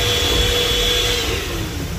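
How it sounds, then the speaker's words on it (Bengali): A hand dryer blows in the washroom of a Howrah–Puri Vande Bharat Express train. It gives a loud, steady, close whirring roar with a faint whine, running without a break. "এটা হচ্ছে ড্রায়ার, হ্যান্ড ড্রায়ার দেখতে পাচ্ছ"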